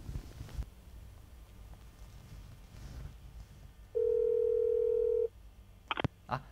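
A telephone ringback tone during an outgoing call, one steady beep held for about a second and a half in a quiet room, followed by faint clicks.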